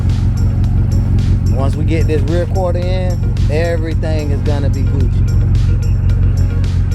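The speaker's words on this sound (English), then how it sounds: "I love the way the exhaust sounds now, if you guys can hear it." Deep, steady idle rumble from a 750hp BMW X6M exhaust fitted with resonated tips, loud and close, running throughout while someone talks over it.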